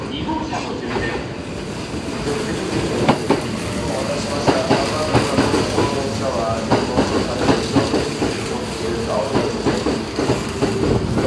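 The Aoniyoshi limited express pulls into Yamato-Saidaiji Station with a loud, continuous rumble, rhythmic wheel clatter over rail joints and occasional squeals, close by throughout.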